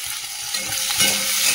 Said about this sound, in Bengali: পেঁয়াজটা তো হালকা করে একটু ভেজে দিলাম